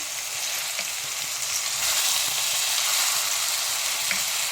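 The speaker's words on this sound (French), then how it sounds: "Maintenant, je vais remuer avec ma spatule." Food frying in a pan gives off a steady, even sizzle, with faint scrapes as a spatula stirs it. No voices are heard.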